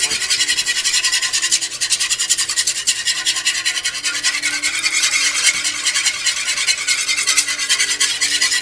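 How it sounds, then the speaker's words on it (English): Mashed potatoes for shepherd's pie are beaten hard in a pan, making a steady, loud, continuous scraping and rasping close up with no pauses. "Basically, you just got to beat it until you get all the lumps out of it."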